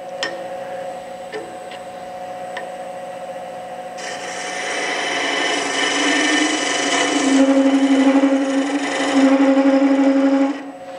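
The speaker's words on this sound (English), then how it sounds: "I was going into end grain, but I was scraping, and I can kind of fine tune my, my spigot or my tenon that way." A woodturning tool scrapes the end grain of a tenon on a spinning lathe, a steady harsh rasping hiss that swells for several seconds over the machine's constant hum, preceded by a few light ticks, close and loud.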